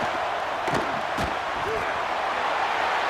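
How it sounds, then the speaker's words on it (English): Crowd noise in a college football video game, an FCS matchup, swelling as the defense lines up on third down; a dense, steady roar fills the background throughout, with a few thuds and brief shouts over it. "rising as the crowd gets behind this defense on third down"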